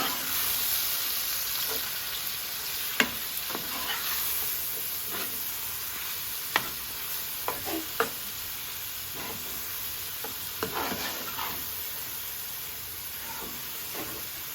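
Ingredients for a flat bean (seim) curry sautéing in a pan, giving a steady close sizzle and hiss with occasional sharp pops and stirring clicks.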